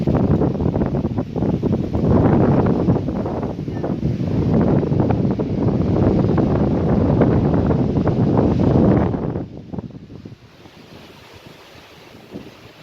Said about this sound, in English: Some heavy gusts.